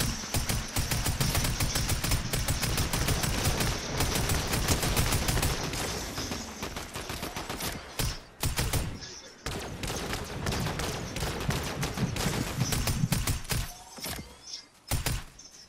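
Dense bursts of Fortnite gunfire during a trios match, rapid clustered shots and volleys running almost nonstop, loud and close, with players talking over the shooting.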